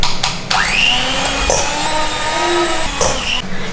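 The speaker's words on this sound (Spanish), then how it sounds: "Se trata de meter el pollo para desmenuzarlo con la batidora." A hand blender grinds a chicken breast into shreds, a steady close motor whine with the pitch dipping and rising as it bogs down, stopping and restarting a few times.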